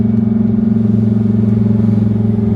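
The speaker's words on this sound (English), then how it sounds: "It's got a aftermarket exhaust on it too. It sounds mint" A sports car with an aftermarket exhaust idles loudly and close by, a deep, steady exhaust rumble throbbing evenly with a rich low burble.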